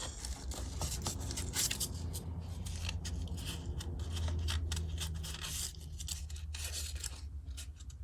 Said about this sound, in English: cut it down to make a homemade mark making brush